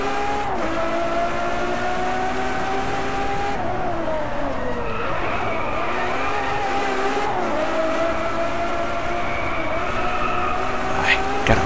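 A Lamborghini Aventador LP720-4 50° Anniversario roars steadily in Driveclub, its engine note holding and then dipping and climbing as the car drifts through corners, loud and continuous, with a short spike near the end.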